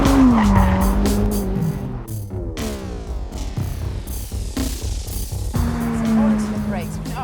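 A Ferrari F8 Tributo slides sideways with its tires squealing loudly in long wavering shrieks over a hard-working engine, the squeal fading and returning in bursts with a voice talking over it.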